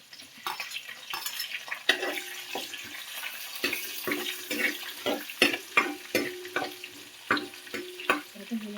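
Ginger sautéing in a pan for fish mappas gives a soft, steady sizzle, broken by repeated scraping and clinking as it is stirred. The sound is fairly quiet and close, with no talking.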